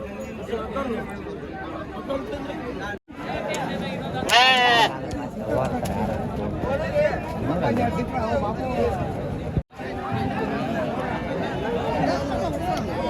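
Sheep bleating at the Amingada sheep market, repeated calls rising over a busy hubbub of market chatter, with people talking close by throughout.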